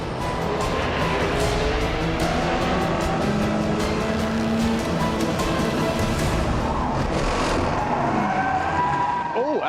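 An Audi race car at Le Mans runs off the circuit, a loud continuous engine and tire roar with skidding, under excited commentary throughout.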